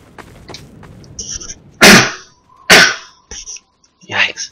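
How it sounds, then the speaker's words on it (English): Two sharp, loud sneezes burst out close by, with a voice talking softly before them and brief noises afterward. "I'm gonna sneeze."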